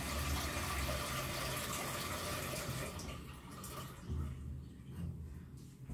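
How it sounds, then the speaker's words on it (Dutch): Tap water pours steadily into a cooking pot for onion soup, a loud continuous rush that thins and quiets partway through as the pot fills, with no talk. "ik ga dus in deze pan water doen"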